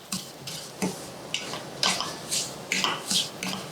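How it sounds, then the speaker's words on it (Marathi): Semolina roasted with dry fruits in a pan for sweet sheera, heard as repeated close scraping and stirring strokes against the pan, soft and rhythmic, with a faint sizzle beneath and no talking. "सुकामेवा पण रव्यासोबत छान परतून घेऊयात."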